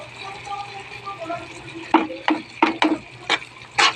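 Spoon strokes stir a wet mixture of fermented rice and shrimp (burong hipon), several squelching scrapes close by in quick succession after a quieter stretch with faint talk.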